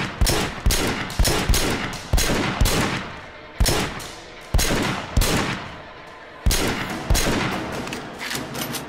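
Gunfire in the video game Sleeping Dogs, about a dozen sharp loud shots in uneven bursts, each followed by a short decaying echo, with no talk.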